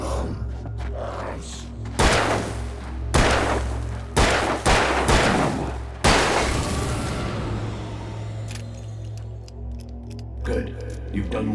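Gunshots in the Alan Wake video game: five or six loud, booming shots fire in quick succession, then a reverberant rumble fades out, with possible faint voice sounds in the background.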